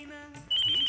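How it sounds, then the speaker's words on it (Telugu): A mobile phone ringtone starts abruptly partway through and plays a steady, bright electronic tone at close range until the end. "నా ఫోన్ రింగ్ అవుతుంది, ఫోన్ ఇవ్వు"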